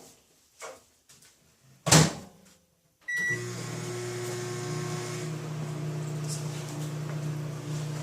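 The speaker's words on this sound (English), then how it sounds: "We'll be putting this one in the microwave first." A few clicks and a door thud, then a microwave oven starts and hums steadily with a low electrical drone, running with a glow stick inside, close and continuous to the end.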